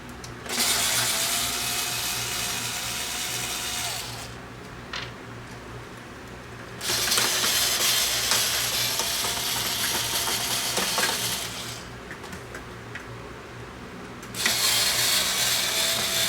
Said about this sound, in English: I'm going to remove the four screws that hold the motor